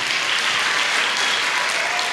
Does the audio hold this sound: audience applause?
yes